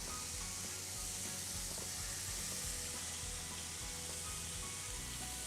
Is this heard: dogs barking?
no